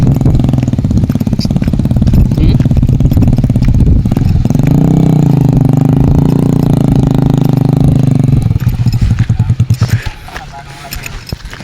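A motorcycle engine runs loud and close, holding a steady rumbling idle before it revs up and settles back, then cuts away near the end. People talk over it.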